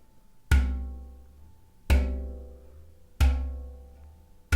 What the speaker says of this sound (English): Use a flat hand and strike the port.